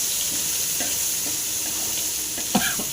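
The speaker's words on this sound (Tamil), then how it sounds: "இப்போ வந்து நம்ம கீரை துவையில் ஊற்றிடலாம். ஊற்றியாச்சு, நல்லா கலக்கலாம்." Three kinds of greens thuvaiyal poured into a pan of spluttering mustard-seed tempering and stirred, a steady close sizzle with soft scraping spoon strokes that grow more distinct toward the end.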